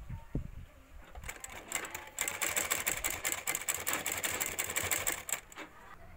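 Close, rapid clatter of a sewing machine stitching a blouse, starting in short bursts and settling into a steady run of ticking needle strokes, fairly quiet, with no talking.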